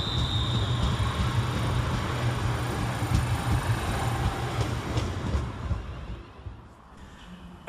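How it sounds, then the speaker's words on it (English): A Scotrail Class 380 electric train rolls into Paisley Gilmour Street station, a steady rumble with rhythmic wheel clatter and a faint high whine, fading as it slows. "Arriving into the station is"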